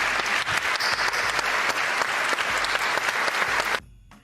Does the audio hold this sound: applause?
yes